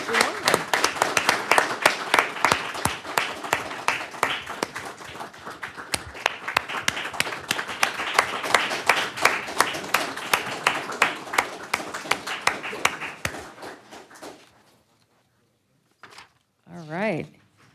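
Applause for recognition recipients at a college district board meeting: a room of people clapping steadily for about fourteen seconds, then fading into quiet with a brief voice afterward.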